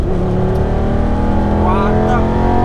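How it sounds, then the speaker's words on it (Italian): A Lamborghini supercar engine roars loud and close, a dense sustained growl with a rising whine as it revs, with nothing else over it. "Uno strano rombo di una supercar."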